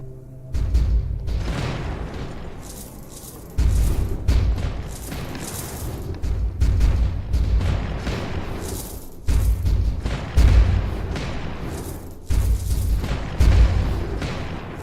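Mortar shells explode repeatedly in the VR tower-defense game Alchemist Defender, a string of deep, booming blasts landing every second or two with rumbling decay and some overlapping impacts.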